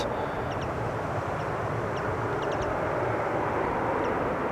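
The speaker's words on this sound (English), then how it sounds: "Transavia 737-700 up next, arriving from Barcelona" Transavia Boeing 737-700, registration PH-XRX, 21 years old, arriving at Amsterdam Schiphol from Barcelona: a steady, distant broadband jet rumble that holds evenly throughout, with faint bird chirps over it and no talk.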